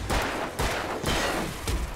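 Bursts of gunfire in the Alan Wake game, a dense, loud volley of overlapping shots that swell and fade in waves across two seconds, with no voices over them.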